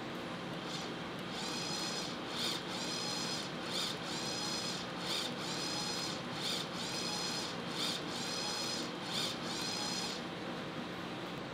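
Machine peck-drilling a 10 mm deep hole, a steady machine whir broken by repeated bursts of higher whining cutting sound as the drill cycles down and backs out, about ten pecks in an even rhythm.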